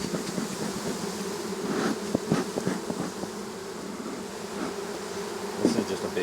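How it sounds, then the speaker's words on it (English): A dense, steady drone of many honey bees buzzing close by inside a large hive, with occasional louder buzzes and faint knocks over the hum. "There's a lot of bees in here."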